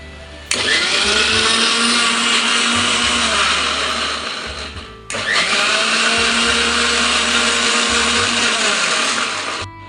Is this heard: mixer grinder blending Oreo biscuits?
yes